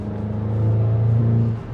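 A modified VW MK8 GTI accelerates hard, its engine a loud, steady rumbling drone building up close by for under two seconds before easing off slightly at the end.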